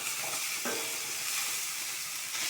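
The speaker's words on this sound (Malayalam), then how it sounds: "ഇനി നമുക്ക് കറിവേപ്പില ഇട്ട് കൊടുക്കാം. ഇഞ്ചി വെളുത്തുള്ളി പേസ്റ്റ് ഇട്ട് കൊടുക്കാം." Ginger garlic paste and curry leaves fry in a pan with a steady, fairly loud sizzle and occasional stirring, no voices present.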